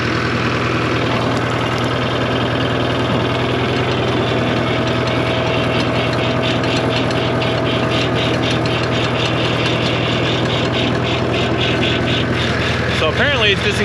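A tractor engine rumbles steadily and loudly at close range while the tractor is driven on a ranch, a continuous low drone with a rattling vibration throughout and a faint voice briefly under it near the end.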